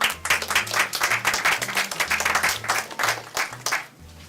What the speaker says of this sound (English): they didn't clap very much for that one.